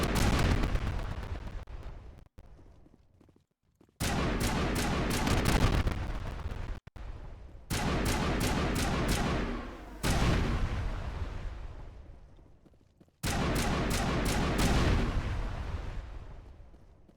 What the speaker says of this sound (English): What happens if I shoot all these power junctions?